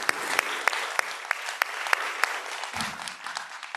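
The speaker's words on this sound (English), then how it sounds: "I'd just like to give a really big hand of applause for our panel." An audience at a scientific colloquium in Singapore applauds a panel, with dense sustained clapping, a few sharp individual claps standing out near, and a brief murmur toward the end.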